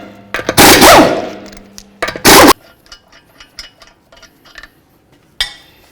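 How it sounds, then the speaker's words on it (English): A power impact tool removing five 19mm lug nuts from a 2013-17 Honda Accord front wheel: two loud rattling bursts, then scattered metallic clinks and a final sharp clank. "we're going to remove all 5 of these 19mm lug nuts"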